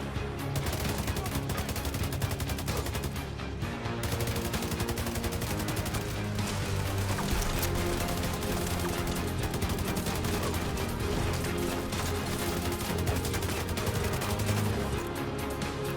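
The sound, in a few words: gunfire in The Division 2 video game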